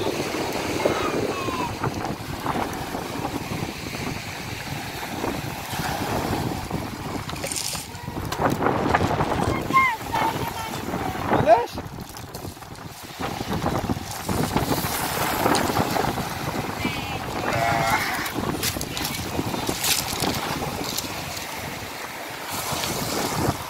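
Gusty wind buffets the microphone by the sea, waves washing in beneath it, with scattered voices now and then.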